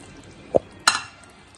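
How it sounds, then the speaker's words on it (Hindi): Spoon stirring in a cooking pot of aloo gosht with added coriander and chillies, two quick metallic clinks close by, the second brighter and ringing briefly, over faint background hiss. "चम्मच चला देंगे।"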